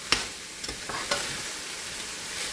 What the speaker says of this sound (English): we're just going to let them saute for a few minutes